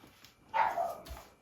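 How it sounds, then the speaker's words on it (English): Ruby the dog lets out a single short bark in the background, fairly faint and distant, with quiet surroundings before and after. "That's Ruby, you can hear in the background. She's always barking at bees."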